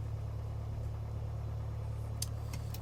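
A Piper Warrior II piston engine idles at 1,000 rpm in a flight simulator, a steady low drone with a constant hum that holds throughout, with faint clicks near the end.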